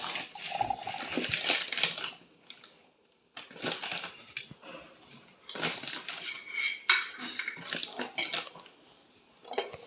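Spoonfuls of gram flour being added to a kadhi made with taro leaves, heard as close metal spoon scrapes and clinks against a pot in several short bursts separated by brief pauses, with no talking.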